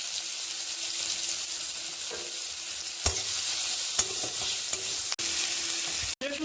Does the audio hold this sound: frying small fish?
yes